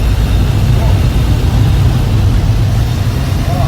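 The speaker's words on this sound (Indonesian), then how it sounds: "ini suara mesin tanpa mikrofon." A Daihatsu Gran Max blind van's engine drones while driving, heard from inside the cabin as a loud, steady low hum with road rumble throughout.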